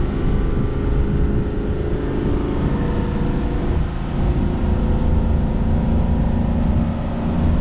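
A hauling truck engine holds steady in second gear at about 3,000 RPM, giving a continuous loud low drone with dense rumbling harmonics and no voices.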